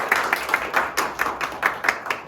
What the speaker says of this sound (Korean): 다시 한번 우리 A조 수고하신 팀 모두에게 감사한 박수하겠습니다.